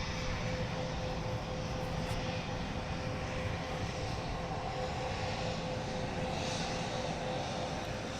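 An airliner at London Luton Airport roars steadily and loudly through the whole stretch, a broad engine drone with a constant whine, with no voices.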